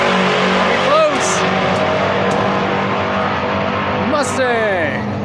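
Drag race cars at a quarter-mile strip roaring loudly and continuously, engines revving with rising whines as they launch, crowd noise and talk mixed in throughout.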